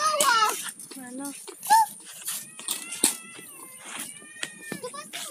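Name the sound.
kitten meowing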